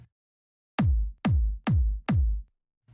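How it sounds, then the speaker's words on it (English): Four loud electronic kick drum hits with no low-mid EQ cut, giving a fuller, boxier thump, struck in an even rhythm with nothing else playing. "Now without the cut, this is what the kick would sound like."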